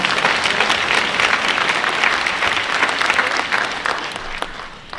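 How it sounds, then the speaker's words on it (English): An audience applauds during an event honouring a boxer's career: dense, continuous clapping from a sizeable crowd, loud and even for several seconds with no speech over it. "there you go, applause"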